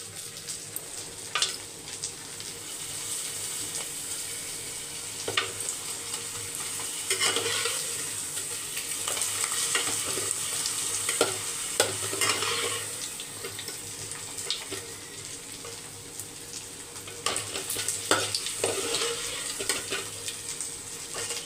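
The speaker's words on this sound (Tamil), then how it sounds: "அப்படியே அப்பளம் ஒரு 2 வறுத்துக்கலாம்" Appalam (papad) frying in hot oil on a stove, a continuous sizzle with bursts of crackle and occasional stirring or splashing, moderately close and with no voices.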